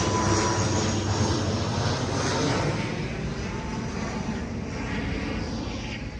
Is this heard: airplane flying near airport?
yes